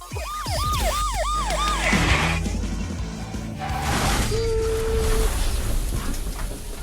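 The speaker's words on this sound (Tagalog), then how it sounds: "Gumana ang sirena!" A car siren wails close by in rapid rising-falling whoops, then shifts to other tones and a long steady beep amid engine noise.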